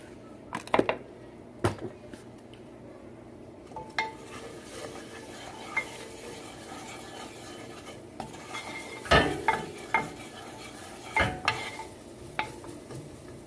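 Onions with a pinch of salt softening in a pan give off a low steady sizzle, broken by intermittent clinks and scrapes of a utensil stirring against the pan; no one speaks.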